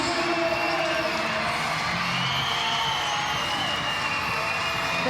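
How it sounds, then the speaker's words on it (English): Loud, steady crowd roar with cheering and whoops filling a netball arena at John Cain Arena in Melbourne during a Vixens v Firebirds Super Netball match, continuous throughout. "The crowd is so loud here at John Cain Arena"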